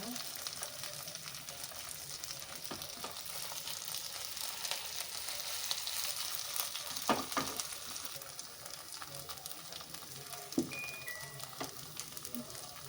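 Anjal fish fries on a tawa with a faint, steady sizzle and crackle, with a few soft clinks and scrapes over it.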